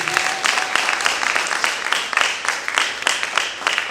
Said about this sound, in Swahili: Mikono tena pamoja, tumpe Yesu makofi mazuri.